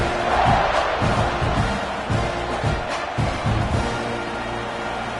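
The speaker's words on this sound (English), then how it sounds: "this crowd is buzzing after that last score" A football stadium crowd buzzes after a score at a Texas A&M versus Ohio State game, a loud sustained roar with swelling bursts throughout.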